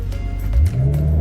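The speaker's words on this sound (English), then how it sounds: "Rev it up." A 2013 BMW X5M engine revs up briefly with a low, rising growl that swells then settles into a higher steady drone, close and loud.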